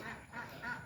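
Ducks on an egg farm give a few quick, fairly faint quacks in less than a second.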